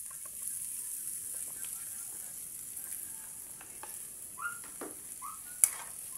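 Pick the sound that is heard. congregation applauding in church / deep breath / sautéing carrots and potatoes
sautéing carrots and potatoes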